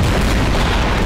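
A bomb exploding in the video game Garry's Mod: a loud, dense, booming blast filling the whole second, close and heavy, with no talk.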